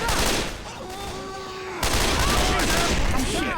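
Dense, continuous gunfire from the zombie shooter Left 4 Dead 2, loud and close, with several rapid bursts overlapping throughout while excited voices shout over the shooting.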